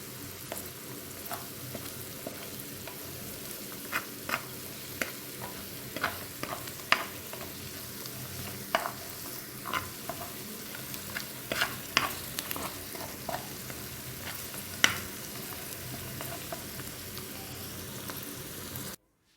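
A mixture for Moroccan charmoula-style carrot dish sizzles and fries in a pan on the stove while a spoon stirs it, steady soft crackle punctuated by repeated scraping clicks, close and without talk.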